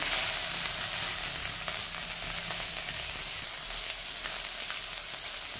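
Singhi fish fry in a nearly dry pan and are turned over and over. A soft, steady sizzle carries light shifting noises and no voices.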